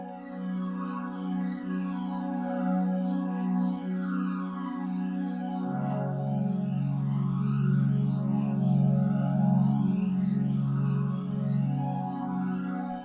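A sustained Jet Pad 2 synth pad from a Roland JV-1080/5080 moves through slow suspended chords, with a swirling jet-flanger sweep and a bass note that shifts partway through.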